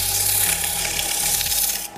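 Loud, steady abrasive sanding sweeps back and forth across a wooden surface, close up, ending abruptly.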